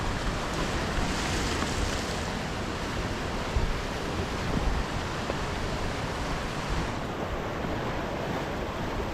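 Waves crash against the basalt rocks of Giant's Causeway in a steady, loud roar of surf, with wind buffeting the microphone throughout and no voices.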